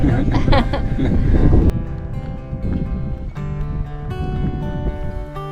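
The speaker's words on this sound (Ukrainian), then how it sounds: "Сильний вітер не дозволив нам зійти на вершину." Strong wind on the Rysy peak in the Polish Tatras roars and buffets the microphone in a heavy gust, then eases into a lighter, steadier rush while voices talk nearby.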